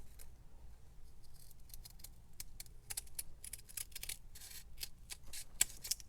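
Scissors cut through paper and cloth while trimming an original book spine for an ephemera folio, giving a close series of crisp, uneven snips and rustles with no talking.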